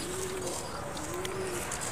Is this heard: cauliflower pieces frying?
no